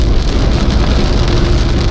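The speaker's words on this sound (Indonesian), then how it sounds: "Hujan lagi teman-teman di kilometer 120 nih" Rain falls on a Daihatsu Ayla while it drives on the Trans Java toll road near kilometre 120 between Tegal and Jakarta. A loud, steady roar of rain and road noise fills the whole moment inside the car.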